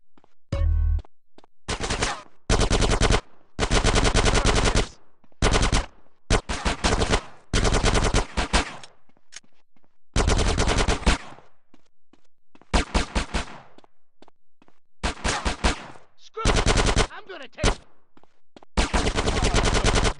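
Bursts of automatic gunfire from the video game GTA San Andreas, set in a casino robbery. The volleys are loud and close, broken by short silent gaps, with no talk.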